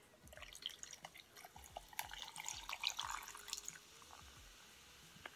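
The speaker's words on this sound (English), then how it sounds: "Let's pour the soda here." Mountain Dew soda poured into a cup at a restaurant-food meal, a soft trickling liquid pour with light splashes building over a few seconds at close range, then tapering off, with no talk.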